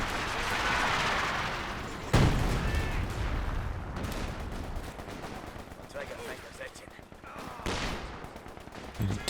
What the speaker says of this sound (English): LFH back there, firing into this region.